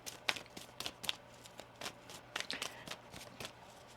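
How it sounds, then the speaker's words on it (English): Tarot cards are shuffled close by in a quiet room, giving a run of soft, irregular riffling flicks and snaps. "One more shuffle here."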